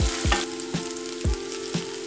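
Ginger garlic paste sizzles in a pan for an egg masala gravy, a steady frying hiss broken by regular stirring scrapes about twice a second.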